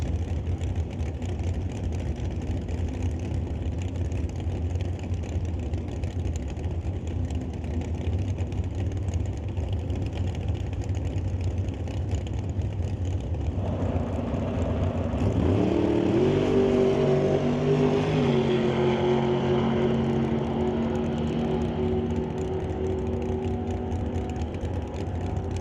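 A 1968 Chevelle and a 1989 Chevy S10 drag racing at an NHRA Summit ET Series event, engines idling loudly before a rising roar as they launch and accelerate away, sustained heavy engine noise throughout.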